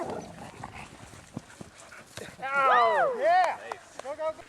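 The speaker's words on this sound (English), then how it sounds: "Ruby Dog showed why she is the most feared defender in the league" A dog whines and yelps in a rising, falling run of cries at mid-distance during a backyard Thanksgiving football game, with scattered thumps and faint voices around it.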